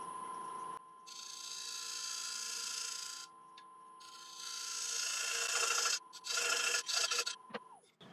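A parting tool cuts a tenon into a punky, cracked hornbeam blank spinning on a wood lathe, giving a steady close scraping, rasping whine with a few short pauses and rougher, louder bursts near the end.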